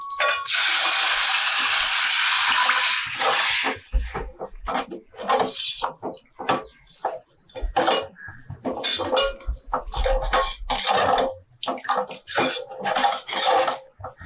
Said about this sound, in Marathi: आता हे पाणी ओतायचं